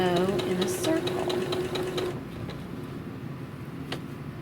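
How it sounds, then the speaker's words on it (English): A sewing machine runs in a quick, even whirring chatter as it stitches a circle on a quilted bottle tote, close and fairly loud for a couple of seconds before stopping and leaving a quieter room. "I am going to slowly sew in a circle"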